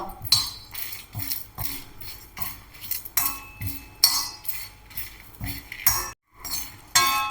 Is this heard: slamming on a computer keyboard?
no